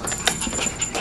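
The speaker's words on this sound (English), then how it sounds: "You silly dog." A dog pants close by in quick, breathy bursts, with a brief louder puff partway through and a steady hiss underneath.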